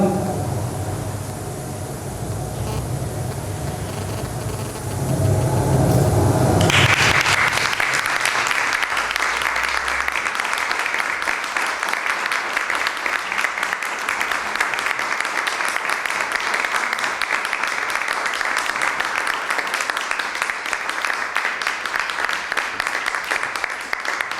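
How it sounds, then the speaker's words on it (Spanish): Audience applause breaks out after a book presentation for the novel La Carretera, a loud, dense, sustained clapping that starts abruptly after low background murmur and continues steadily to the end. "tampoco esperábamos tanto aplauso"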